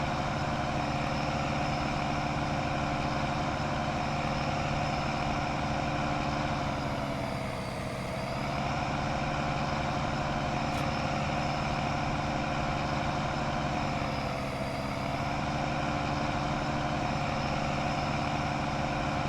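A farm tractor idles steadily in Farming Simulator 19, hitched to a 12-row planter: a constant low, droning engine hum with two slight dips, heard alone and close.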